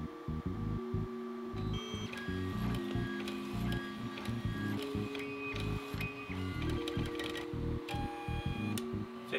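An XL 3D printer running at 500 mm/s, its stepper motors whirring in steady, rapidly shifting pitched tones with quick ticking direction changes, loud and close with no talking.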